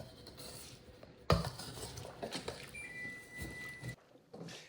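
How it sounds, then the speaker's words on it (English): A Danish dough whisk stirs overnight oats in a bowl, giving a close, quiet scraping and patter with a sharper clink early on, fading near the end. "all I have to do is stir everything together. I'm using a Danish dough whisk here."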